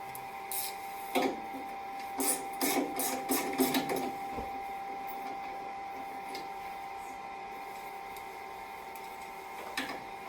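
A ratchet with an extension turns a 10 millimeter socket during a wood stove combustion fan and gasket job, giving several quick bursts of clicking followed by quiet and a final click or two.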